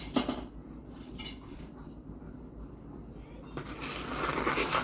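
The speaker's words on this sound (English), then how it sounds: "I'm just going to kind of give this a quick stir" A utensil gives dry ingredients a quick stir in a bowl, making light clinks and scraping against the sides in short bursts, followed by a louder, denser stretch of scraping.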